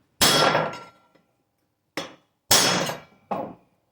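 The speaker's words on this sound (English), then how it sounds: "do a final set to fill the void with just a ground down punch and a 5-pound hammer." Four sharp metallic blows of a 5-pound hammer on a ground-down punch, installing a Galil bullet guide, ringing briefly, spaced unevenly with pauses between them.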